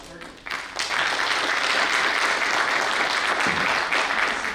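A lecture audience breaks into steady, loud applause that builds within the first second and holds as a dense clapping wash to the end.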